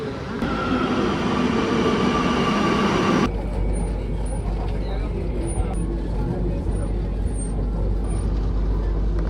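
A Kochi metro train pulls into the platform, its broad rumble and rush loud for the first few seconds, then easing off to a lower hum with faint high tones and station ambience.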